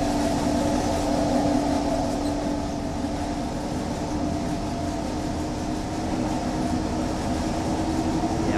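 Passenger train running along a line in Train Sim World on a wet, foggy day in Germany, a steady low rumble and rolling hum with a constant tonal drone, continuous and fairly close, no talk.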